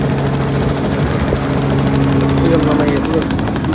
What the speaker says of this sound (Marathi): या ठिकाणी हेलिकॉप्टर थांबतंय.